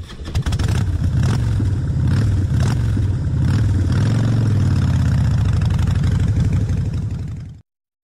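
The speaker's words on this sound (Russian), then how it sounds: "Мотоцикл. Где мотоцикл?" A motorcycle engine from a children's animated vehicle-learning cartoon runs loud and steady for about seven seconds, with slight revving swells, then cuts off abruptly. No voices are heard.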